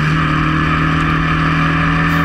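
Historic Formula Ford race cars at full throttle at Cadwell Park, a loud sustained engine drone with strong steady harmonic tones, up close and continuous.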